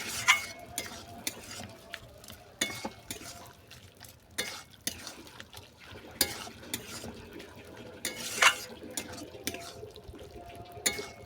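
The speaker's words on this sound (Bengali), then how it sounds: "গরম মশলা চালের গুঁড়িটা ভালো করে মিশিয়ে নিলাম" Curry in a pot gets stirred as rice flour and garam masala are mixed in for a chicken dish, with repeated spoon scrapes and clinks against metal over a low sizzle, close and uneven in rhythm.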